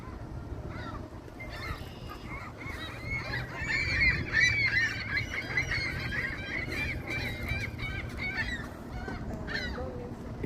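Domestic geese or ducks honk repeatedly by a lakeshore at Bluffers Park in Toronto, a chattering cluster of calls at moderate distance that swells in the middle, over low steady background rumble.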